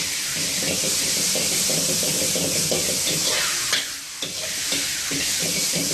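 Vegetables and noodles stir-fried in a hot pan, a loud continuous sizzle with repeated scraping and stirring strokes and a brief dip near the end.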